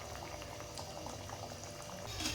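Crispy corn cutlets frying in oil over a medium gas flame: a continuous, dense bubbling sizzle, fairly quiet and even, swelling slightly toward the end with no voices.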